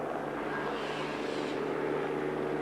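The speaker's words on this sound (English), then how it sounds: "And the choppers in hot pursuit." Helicopters tracking the leading motorcycles at the 1986 Castrol 6 Hour race at Oran Park give a steady, continuous rotor and engine drone, moderately loud, with no talk over it.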